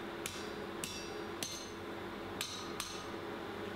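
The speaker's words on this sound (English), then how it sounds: "Basically, bend it into position and hammer it down." A forged iron chain collar for a Sutton Hoo chain replica is hammered into position: five sharp, ringing metal strikes at irregular intervals over a quiet workshop background.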